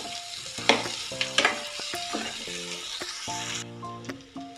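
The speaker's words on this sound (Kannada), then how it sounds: "ಈಗ 1-2 ನಿಮಿಷಗಳ ಕಾಲ ಈರುಳ್ಳಿ ಎಲ್ಲ ಬ್ರೌನ್ ಕಲರ್ ಬರೋವರೆಗೂ ಇದನ್ನು ಫ್ರೈ ಮಾಡ್ಕೊಳ್ಬೇಕಾಗುತ್ತೆ" Onions and masala frying in a pan for Yugadi holige sambar, a soft sizzle under repeated scraping stirs of a spoon, with sharper clanks against the pan and a thin steady hiss; no talking.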